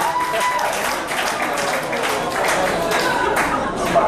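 Applause from the audience at a stand-up comedy show, a dense, steady patter of clapping filling the room with some crowd noise mixed in.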